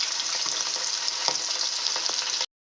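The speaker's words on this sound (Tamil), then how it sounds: "இப்போ நம்ம எண்ணெயில் போட்டு நல்லா பொரிச்சு எடுத்துக்கலாம்." Loud, crackling sizzle of quail frying in hot oil, continuous and close, with small pops, cutting off abruptly near the end.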